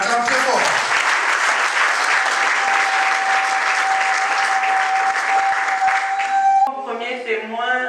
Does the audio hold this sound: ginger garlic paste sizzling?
no